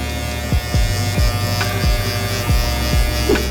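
An electric hair clipper fitted with a 1.5 guard buzzes steadily up close while cutting hair, its hum dipping with each of several rhythmic strokes through the hair.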